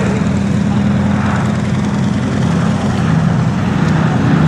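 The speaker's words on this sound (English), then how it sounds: "The Republic P-47 Thunderbolt being displayed there." A Republic P-47 Thunderbolt performs a flying display at an airshow at Duxford, its propeller engine a loud, continuous droning roar throughout.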